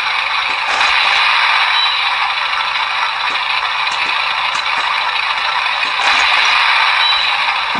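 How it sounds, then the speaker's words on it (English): Built-in sound effects of a 1/24 scale Forces of Valor R/C M4A3 Sherman tank: a few sharp main-gun firing bursts with a mechanical recoil clatter, spaced out over a steady rattling engine hum from a small speaker. "the main gun fires with a sort of recoil action"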